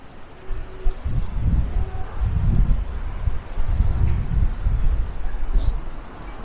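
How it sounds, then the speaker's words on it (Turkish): Gusty storm wind on the coast at Turgutreis, Bodrum, buffets the microphone in low, rumbling bursts, with faint rustling in the background and no voices. "Çok rüzgar var ya."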